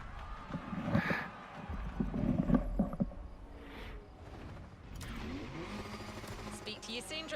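Car engine from a vehicle driving in The Crew Motorfest racing game, a rumbling drone that rises and shifts in pitch as it accelerates, heard under a voice talking throughout.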